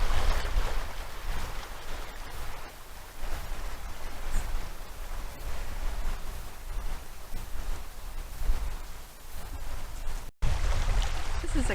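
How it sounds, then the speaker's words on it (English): River water rushes over rocks in a shallow stretch at Wolcott Mill, a continuous loud, hissing outdoor wash that holds steady throughout with a brief cut near the end. "the rocks are making the water go swoosh swoosh, and so you can really hear the river singing here."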